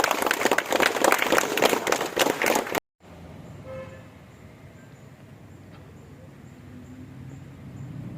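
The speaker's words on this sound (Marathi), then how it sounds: "सगळे मिळून टाळ्या वाजवा." Audience clapping at a Cortalim inauguration of a chequered-tile paving project, close and loud for about three seconds before it cuts off abruptly, leaving quiet ambience with a faint distant horn.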